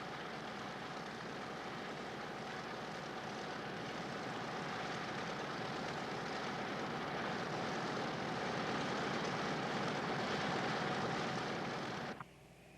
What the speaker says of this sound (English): Here the aircraft is being shown taxiing out to test its landing gear